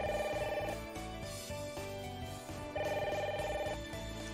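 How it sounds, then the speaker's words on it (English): A telephone rings in the Nekopara visual novel game, two bursts of a bright electronic ring over game background music, with no talk. "Phone."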